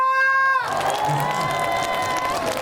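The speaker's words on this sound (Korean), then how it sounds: "박수 함성" A sustained tone gives way to a concert crowd's loud cheering and clapping at the 18th Cheongsong Apple Festival trot performance. Shouts and applause swell and hold steadily to the end.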